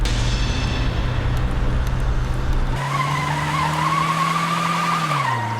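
Car tires squeal in a long skid during reckless driving in a Hindi-dubbed South Indian horror film, loud and continuous, the pitch shifting midway and sliding down at the end, with engine rumble under it and no talk.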